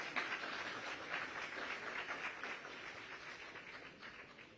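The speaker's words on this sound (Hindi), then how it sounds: "यहाँ के लोग थोड़ा कंजूसी कर रहे हैं ताली बजाकर आपको बधाई देने में" Scattered, fairly light clapping from a studio audience congratulating a guest at a televised interview, heard at a distance and fading slightly toward the end.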